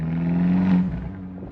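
An Abarth 124 Spider exhaust droning steadily under load, a loud, close engine note that eases off after about a second, heard alone.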